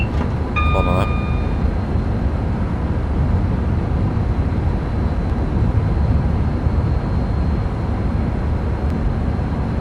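A simulated train in Train Sim World 6 rumbles steadily along on a Blackpool North to London Euston run, a continuous broad roar with a brief high electronic tone near the start.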